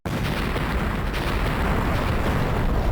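A nuclear reactor explosion in a PS1 horror game sounds as a sustained, dense roaring rumble that starts abruptly and stays loud throughout, with no voices.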